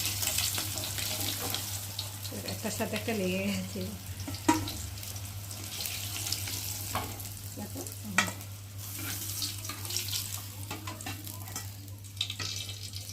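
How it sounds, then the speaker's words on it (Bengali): Four pieces of rohu fish frying in hot oil, a continuous close sizzle with occasional spatula scrapes and pops, while someone talks over it. "এখানটা এই যে মাছ 4 পিস মাছ ভাজতে দিয়েছি"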